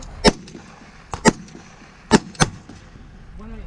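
Shots from an AR-15 rifle at an outdoor shooting range, four sharp, loud reports in an uneven rhythm, the last two close together, over quiet background noise.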